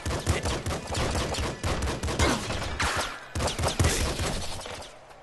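Rapid gunfire from the video game Nuclear Throne bursts in quick, dense volleys of sharp shots, loud and continuous with a brief break midway.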